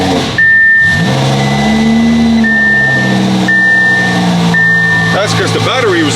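A twin-turbo Audi R8 fires up and revs, loud and close, with a sustained engine roar that swells and eases, under a steady high electronic beeping and a voice speaking briefly near the end.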